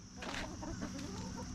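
A chicken clucks nearby in short bursts, with soft rustling and faint farmyard background noise.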